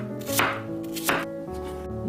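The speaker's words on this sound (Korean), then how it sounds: "사과 1개도 비슷한 크기로 잘라주세요." An apple is cut with a knife on a board in two firm, crisp strokes, close and clear, over a faint background hum.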